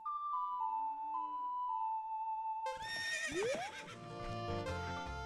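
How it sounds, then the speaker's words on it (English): The horse Epona whinnies in The Legend of Zelda: Ocarina of Time, a long rising neigh alone at first, then a burst of game music and effects over it. "She is now willing to let Link ride. Good horse, good horse."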